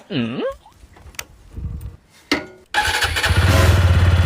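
A vehicle engine, likely a motorcycle, starts up loudly and settles into a steady running drone after earlier scattered voice sounds and bumps.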